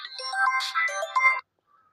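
A mobile phone ringtone plays as a call is placed in a rural village setting, a short melodic electronic tune lasting just over a second before cutting to silence.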